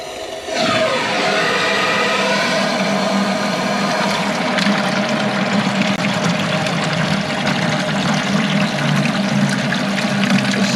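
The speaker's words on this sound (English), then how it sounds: "Turn this water on." Water starts flowing abruptly through a tube from a water heater, then runs in a steady, rushing gush, close and fairly loud, with no talking.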